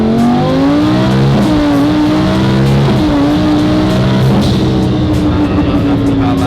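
A supercharged Lamborghini Huracan with a Stage 2 kit pulls hard in second gear, its engine note climbing steadily in a loud, close roar with a faint whine riding over it and no voices.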